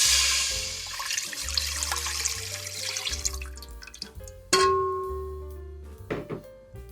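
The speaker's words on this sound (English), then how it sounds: "Now to the same pot, we're going to add in our beef broth." Beef broth pours steadily into a pot in a continuous liquid stream, fairly close and clear, then tapers off with a few splashes and drips.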